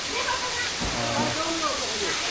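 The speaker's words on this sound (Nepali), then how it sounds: "झरना निकै राम्रो लाग्यो तर धमिलो छ आज पानी चाहिँ" A waterfall at Kukhure Daha running with muddy water gives a steady, broad roaring rush that fills the background while a person talks over it.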